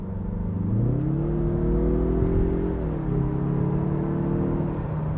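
Turbocharged engine of a 2023 Mazda CX-30 Turbo crossover pulling under acceleration, a steady close drone whose pitch climbs, holds, then eases slightly as it keeps running.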